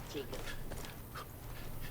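A dog in the Far Cry 5 video game pants and whimpers softly through a steady noisy game soundscape, with faint talking mixed in.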